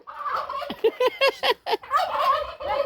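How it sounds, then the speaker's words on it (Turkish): Turkeys gobbling loudly and close by on a village farm, a run of rapid rattling gobbles in short bursts followed by a longer warbling call, with no talk over them. "Hindiler bu."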